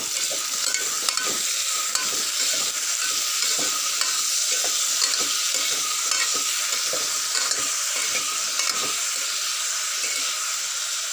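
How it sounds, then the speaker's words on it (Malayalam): Prawns with salt sizzle in a pan over a constant hiss, with repeated scraping strokes of a spoon stirring them at an irregular pace. No one speaks. "എന്നിട്ട് നമുക്കിതൊന്ന് ഇളക്കി കൊടുക്കാം"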